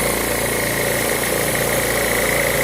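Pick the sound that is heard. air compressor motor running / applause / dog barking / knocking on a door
air compressor motor running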